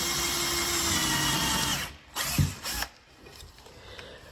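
A power drill bores into a wooden chair joint during a repair, whining loudly and continuously before breaking into a few short, uneven bursts of drilling that trail off into quieter mechanical noise.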